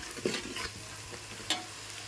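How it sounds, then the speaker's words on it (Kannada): Spicy masala sizzles in hot oil while a spoon stirs it, soft steady frying hiss broken by a few scraping clicks of the utensil, close and alone. "ಒಂದು ಸ್ವಲ್ಪ ಈ ರೀತಿ ಫ್ರೈ ಮಾಡ್ಕೊಬೇಕ್ರಿ ಖಾರನ ಎಣ್ಣೆ ಒಳಗೆ"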